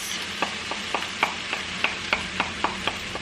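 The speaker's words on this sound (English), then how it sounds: "And we're gonna stir that all together and kind of let that simmer" Ground turkey, zucchini noodles, tomatoes and marinara sauce stirred together in a frying pan, a steady series of soft scraping strokes roughly every third of a second over a low sizzle, close and alone.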